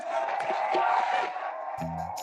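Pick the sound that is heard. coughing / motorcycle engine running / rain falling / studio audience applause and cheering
studio audience applause and cheering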